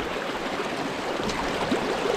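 Clear mountain stream pouring over slippery rocks in a Lake District gill near Seathwaite, a steady close broadband rush and gurgle of water with no talking.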